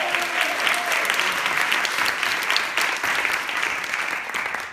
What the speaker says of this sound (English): Let's give Blue a round of applause.